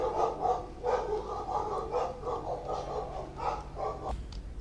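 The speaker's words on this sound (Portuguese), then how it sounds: "deixa eu fazer um corte aqui com os cachorros, deu a louca aí de repente" Dogs barking repeatedly at a moderate distance, a steady series of barks with short gaps, somewhat muffled under a low background hum.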